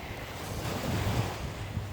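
Ocean waves rush strongly onto a beach in South Goa, a loud continuous roar of surf mixed with wind buffeting the microphone, with no voices.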